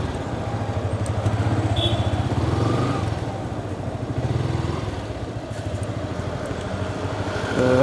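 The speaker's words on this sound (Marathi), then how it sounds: "भरपूर दिवसांनी मला वाटतं 15-20 दिवसांनी R15 मी आज चालवतो आहे" A Yamaha R15 motorcycle being ridden on the road, its engine droning steadily and fairly loud throughout with a slight rise and fall in pitch, heard without any talk.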